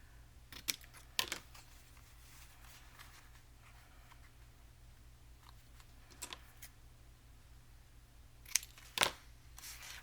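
Paper tags having their corners trimmed with scissors, using another tag as a template: a few sparse, quiet snips and clicks spread over a low steady background hum, with two sharper cuts near the end.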